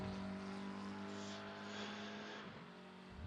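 A McLaren race car in a sim racing game at Watkins Glen holds a steady, buzzing engine tone with sustained harmonic whine, faint and distant-sounding, shifting slightly as it drives on.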